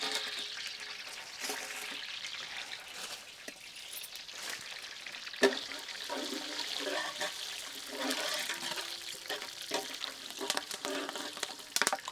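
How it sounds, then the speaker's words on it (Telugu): Bay leaf and whole garam masala crackle in hot oil and ghee for Arabian-style chicken majboos, a steady close-up sizzle with sharper pops and no talking. "నూనె ఇంకా నెయ్యి వేడైన వెంటనే బిర్యానీ ఆకుతో పాటు దీంట్లోనే గరం మసాలాలు కూడా యాడ్ చేద్దాం"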